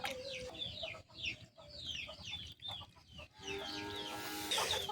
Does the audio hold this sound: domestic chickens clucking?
yes